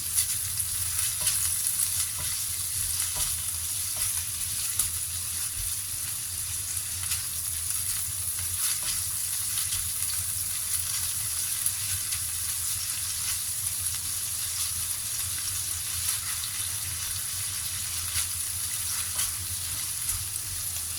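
Tofu stir-frying in a pan with a steady, dense sizzle and crackle that carries on evenly and close up throughout, with faint scraping of stirring and no talking.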